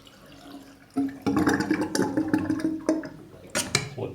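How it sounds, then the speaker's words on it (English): Water drains from an ensuite basin with a pop-up plug: a soft gurgling rush starts abruptly, then continues with uneven sloshing and a few sharp splashes and clicks near the end, heard close and alone. "drain the water"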